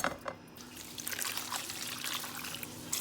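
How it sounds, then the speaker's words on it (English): Bitter gourd being washed under a running tap in a home kitchen, with steady trickling and splashing water close up, no voices. "Wash bitter gourd."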